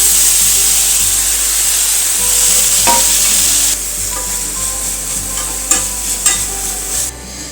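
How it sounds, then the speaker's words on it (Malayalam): Crushed spices and onion sizzle in a hot pan for a chicken thoran, with steady frying hiss and intermittent scraping stirs of a spatula. "ഇനിയിപ്പോൾ നമുക്ക് ചതച്ച് വെച്ച സാധനങ്ങളൊക്കെ വഴറ്റാം."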